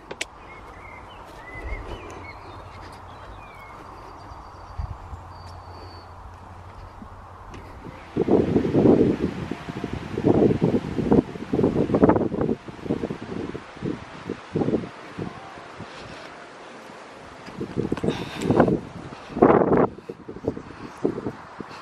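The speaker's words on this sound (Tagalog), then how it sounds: "Sobrang hahangin guys, hindi ako makapagsalita kasi ano din, hindi nyo din siya maririnig dahil sa hangin" Strong gusty wind blusters outdoors beside a red cottage in Sweden, buffeting the microphone in loud irregular bursts after a quieter start, with rustling in between.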